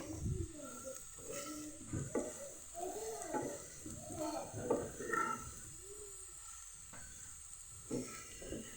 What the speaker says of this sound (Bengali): হাই আঁচে ভাজতে হবে